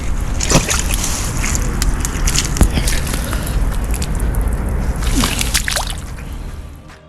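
Water sloshes and splashes close by as a caught carp is slipped back into the Loire river at night's end, a steady wash of noise with a few sharp splashes.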